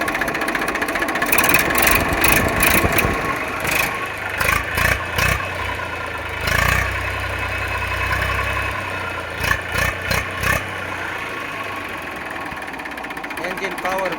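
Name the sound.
Eicher 380 tractor engine idling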